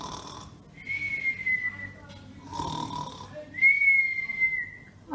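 A storyteller's voice imitates a bear snoring during a read-aloud of Peace at Last, producing three drawn-out, whistling snore sounds in a row, close and fairly loud, with no other talk.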